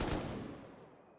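Gunfire in a Danish-played survival shooter on a 2x biweekly vanilla server: one sharp shot burst that fades quickly into a rattling decay, moderately loud and heard alone.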